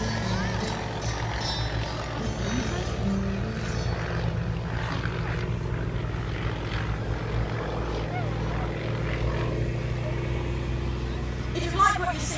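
A Yak-52 propeller aircraft coming in to land on a runway, a steady droning engine and propeller hum held throughout at moderate distance, with a brief brighter swell near the end.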